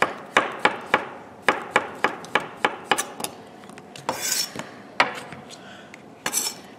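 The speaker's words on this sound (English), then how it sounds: "if I slice this zucchini up like here and then move my knife a little, the slices separate" A kitchen knife slices through fresh zucchini on a cutting board for a winter soup, giving a string of sharp, close chopping knocks in a steady rhythm, then a few scraping, rubbing strokes and scattered later taps.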